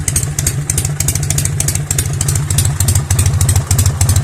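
A motorcycle engine with a K68 carburettor being adjusted runs loud and close, with rapid, even firing pulses and a clattery idle that holds steady throughout.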